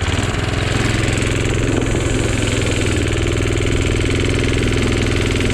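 A minibike engine revs hard and steadily as its tire spins on snow-covered ice, producing a loud, continuous buzzing drone with a rapid firing pulse, close by and without speech.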